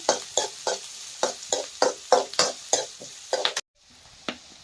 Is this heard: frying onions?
yes